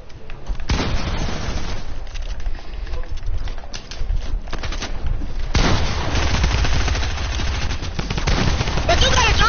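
Tommy gun fire from a video game rattles in dense, continuous bursts, loud and close, over busy game noise with a heavier burst arriving midway.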